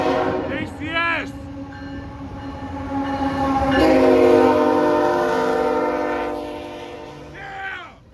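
A KCS manifest and intermodal freight train rolls past close by with a steady rumble that swells and fades, its horn sounding in short blasts at the start and a final blast near the end, with people talking nearby.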